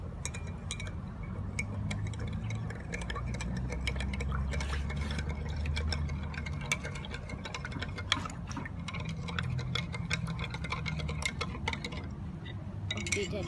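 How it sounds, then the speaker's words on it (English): Salt is stirred into a container of water with a spoon, a fast steady clinking and ticking that runs throughout along with a faint liquid swish, close to the microphone. "And now I'm gonna mix it."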